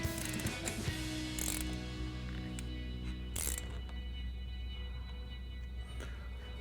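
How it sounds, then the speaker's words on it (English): A 15mm socket on a ratchet wrench clicks while a brake caliper bracket bolt is tightened on a RAM 1500 pickup. Bursts of ratcheting are followed by a few sparse clicks and tool taps against a steady low hum, with no talking. "And then tighten it down with your 15mm socket."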